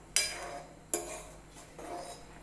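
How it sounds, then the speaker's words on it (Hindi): Masala onion oats being stirred in a pan on the stove, with two sharp spoon clinks against the metal followed by soft scraping strokes, quiet and close. "अब हम इसे अच्छी तरह से मिक्स कर लेते हैं"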